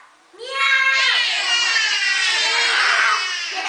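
Children's voices imitate an angry cat together, a loud sustained chorus of yowling and wailing lasting a few seconds.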